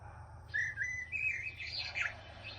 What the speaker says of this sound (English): all the different kind of birds.